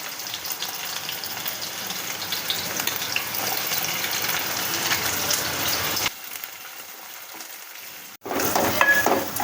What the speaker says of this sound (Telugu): నూనె కాగాక దీంట్లోకి మనం పెద్ద ఉల్లిపాయ ఆనియన్ ఈ విధంగా వేసుకోవాలి